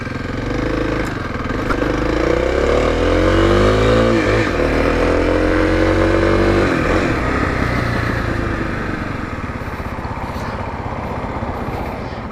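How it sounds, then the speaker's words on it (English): A 2021 Kawasaki KLX300 motorcycle ridden along city streets, its single-cylinder engine revving up through rising gear pulls and then settling to a steady drone, close and loud throughout. "I'm going to ride down these city streets for just a little bit in order to get this motor nice and warm"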